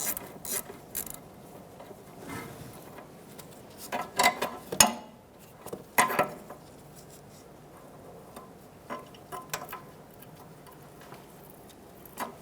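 Ratchet wrench with a 10mm socket working a bolt on the rear upper control arm of a 2013-2018 Toyota RAV4, a few short clicking bursts and metallic handling sounds, close and moderate against quiet background.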